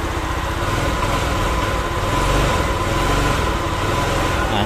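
A motorcycle engine runs at a steady, loud, close idle with a constant throbbing drone and little change in pitch.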